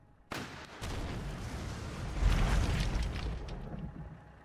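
An HVAT rocket fired in a World War 2 turn-based strategy video game, a sudden loud launch followed by a rumbling, sustained blast and roar that slowly fades, heard alone.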